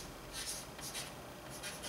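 Faint, soft scratching of chalk or marker writing on a lecture-hall board during a physics lecture on electrostatics, a few brief strokes.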